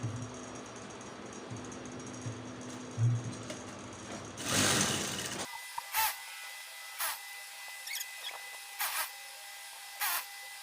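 A sewing machine running a stitch along a trouser seam for a few seconds, followed by quiet handling with a few short clicks and taps, no talk.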